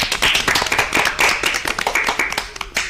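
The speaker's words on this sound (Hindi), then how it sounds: "इनके लिए तालियां बजाइए।" Audience clapping after a child recites a poem at a school program, a fairly close burst of individual hand claps forming an uneven patter that thins toward the end.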